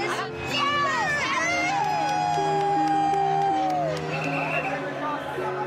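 A dense crowd of devotees at an Indian festival procession at night, with a golden horse carried by men, roars and shouts continuously around a sustained wavering voice, loud and close, with people talking through it.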